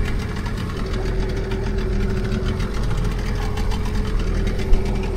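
An engine idles steadily and loudly, a continuous even hum with a low knocking texture that runs unbroken for about five seconds, with no voices.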